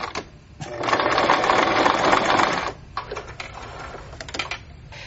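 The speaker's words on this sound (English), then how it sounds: "I usually like to go twice around doing my buttonholes, and you want to go pretty slowly" A sewing machine slowly stitching buttonholes on a scarflet runs in a loud, steady whir for about two seconds, then breaks into shorter stuttering bursts of stitching, with no talk.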